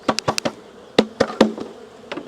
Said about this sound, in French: là-dedans il y a encore des abeilles